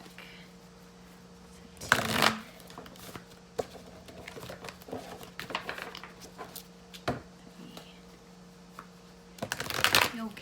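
Tarot clarifier cards are shuffled in two short riffling bursts separated by soft handling clicks, near and fairly quiet, with a single brief spoken word.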